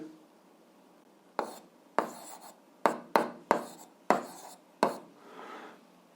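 A pen writing out an algebra solution makes about eight sharp taps and short scratching strokes on paper, close but quiet, spaced irregularly over a near-silent background with no speech.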